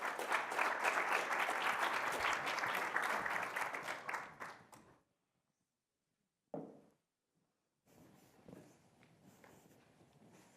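An audience claps loudly and steadily for several seconds to welcome a speaker onto a conference stage. The applause then fades to silence before a few scattered thumps and footsteps.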